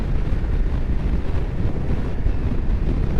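Wind buffets the microphone outdoors beside a country road between Newton Stewart and Maybole, a steady low rumble with rough gusty texture running the whole time and no voices.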